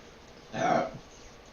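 A person burps once, a short, loud, throaty belch of about half a second, heard alone against low background noise.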